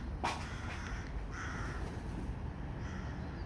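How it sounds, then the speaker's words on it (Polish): Crows cawing outdoors in Poland, one sharp nearby caw near the start followed by fainter, more distant cawing calls over a quiet background, no talking. "a to i wrony, i sroki"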